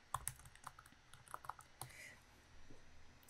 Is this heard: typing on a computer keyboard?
yes